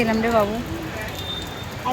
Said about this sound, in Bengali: বৃষ্টি পড়ছে কত জোরে বৃষ্টি পড়ছে দেখো